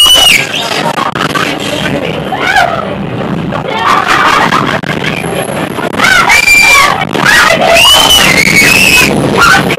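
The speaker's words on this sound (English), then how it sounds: "If y'all hear a little girl scream, that's just me." Loud, shrill screaming and yelling from riders on an amusement park ride at Kennywood, several voices overlapping continuously amid noisy, rushing background.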